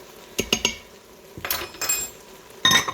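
A teaspoon of sugar going into an Instant Pot for French onion soup: several clinks of a metal spoon against the pot, then a rustling pour and a final louder clatter, with no talking.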